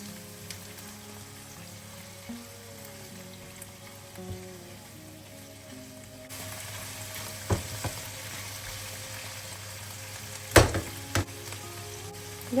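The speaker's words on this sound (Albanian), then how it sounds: "Do t'i përzijmë për 2-3 minuta." Chicken pieces with black pepper, red pepper, salt and tomato sauce sizzle in a pan while being stirred, a steady close frying hiss broken by sharp scraping clatters of the spoon and no talking.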